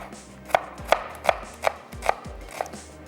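A medium onion sliced with a knife on a board, six evenly spaced crisp chops close by with short pauses between them and no voices.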